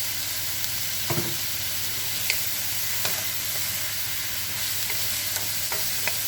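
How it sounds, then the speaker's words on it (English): Vegetables including cabbage and carrots stir-fry with ginger for shrimp lo mein, a loud, continuous hissing sizzle with occasional light clicks of a utensil against the pan. "So what we're going to do is cook this until our veggies are tender. Then we add in our carrots."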